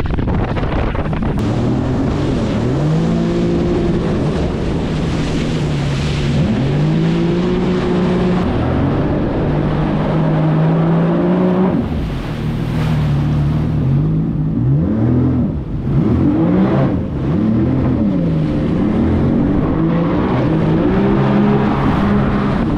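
Jet ski engine whining and surging while riding on the sea off Thailand, with rising and falling revs, heavy wind buffeting the microphone and water rushing, loud and continuous.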